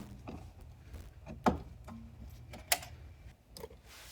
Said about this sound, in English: Undo a couple more clips here that hold the air filter.